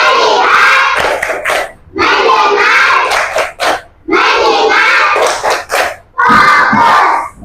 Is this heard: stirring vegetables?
no